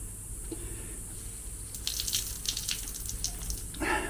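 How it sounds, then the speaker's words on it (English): Sweat-soaked shirt being wrung out, giving faint trickles and splashes of dripping liquid, with a brief burst near the start, a clearer patter in the second half and a final splash. "But the shirt won't dry unless I wring it out."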